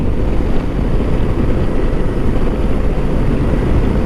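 A Lifan KPT 400 motorcycle speeding up on light throttle, heard as a steady loud rush of engine and wind noise that stays even throughout.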